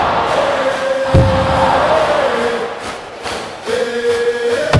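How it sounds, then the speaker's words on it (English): Ice hockey crowd at a cup semifinal game roaring and chanting a player's name, a loud sustained arena din with rising shouts, a thud near the start and swells toward the end. "listen to the fans cheer her name"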